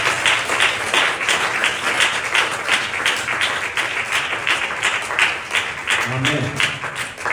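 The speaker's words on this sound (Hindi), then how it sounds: "जोरदार ताली से स्वागत करें" Congregation at a church service claps in a strong, rhythmic pattern of regular beats that holds steady throughout, with a brief voice rising near the end.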